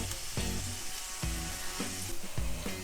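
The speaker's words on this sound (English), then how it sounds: "Add the carrots, and add the onion, the white onions that is. And yeah, then just let this fry for a little bit." Carrots and white onions frying in oil give a steady, close sizzle with crackling, broken by a few sharper stir-like bursts.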